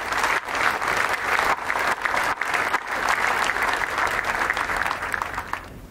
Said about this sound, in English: Please join me in a round of applause for all of these outstanding awards.